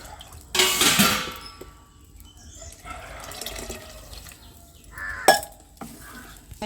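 Water splashes and pours into a metal pot of cumin curry, with a few clinks of utensils and quieter trickling between bursts.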